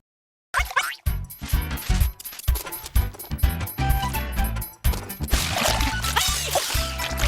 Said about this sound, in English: The satisfying way the paint pours into the tray but doesn't mix with the other colors.